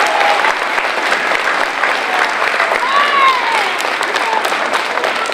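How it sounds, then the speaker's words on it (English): A school assembly audience of students applauds at a Veterans Day assembly, a loud continuous burst of clapping and crowd noise lasting several seconds, with a faint voice or whistle-like tones rising briefly over it. "Can we give them a round of applause,"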